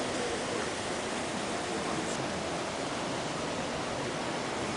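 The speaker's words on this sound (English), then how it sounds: "This is a pretty waterfall." Steady broadband rush of a waterfall at a scenic outdoor sitting spot among trees, loud and constant throughout with no pauses or distinct events.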